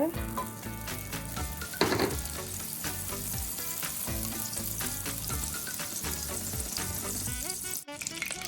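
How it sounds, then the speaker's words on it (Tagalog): Butter melts in a pan for caramel popcorn, giving a steady, close crackling sizzle with fine spattering pops and a brief scraping stir, continuous and fairly loud throughout. "Pagluto ng ating popcorn ay mag-melt tayo ng butter."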